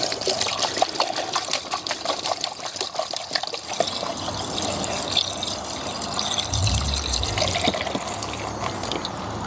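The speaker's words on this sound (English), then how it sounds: "we'll then just fill up with the coolant deionized water mix" A coolant and deionized water mix pours and trickles steadily into a BMW 7 Series coolant reservoir, close by, with a faint gurgle toward the end.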